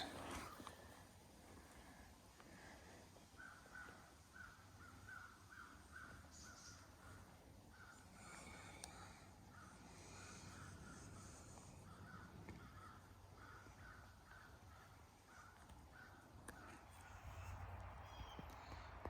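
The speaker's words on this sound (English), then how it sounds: "All the crows." Crows caw repeatedly in the distance, their harsh calls coming in a loose, steady series over a quiet outdoor background.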